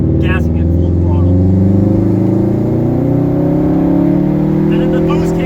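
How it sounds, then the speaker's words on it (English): A modified Subaru WRX pulls hard at full throttle in third gear from low revs, its engine note climbing steadily and loudly from inside the cabin, with a voice talking over the steady drone. "So I'll do a pull in third gear. So I'm at 2008 RPM. I'm gassing it full throttle."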